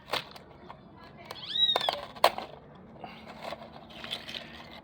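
A cat meows once or twice nearby, brief rising cries between scraping noises and a few clicks.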